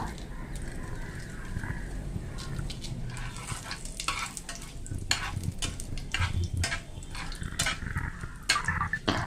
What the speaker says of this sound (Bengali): এবার আমি একে একে তেজপাতা, শুকনো লঙ্কা, 5 ফোড়নটা দিয়ে একটু ভেজে নেব।